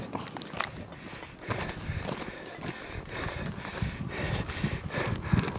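Horses plod along with steady, overlapping hoof clops and some soft shuffling, fairly close, over a continuous outdoor rustle.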